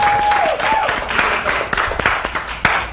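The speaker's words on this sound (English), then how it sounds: "Let's give them a great applause this evening." Audience applause from an evening show crowd, a dense steady wash of many hands clapping throughout, with a brief whistle near the start and a few sharper individual claps standing out.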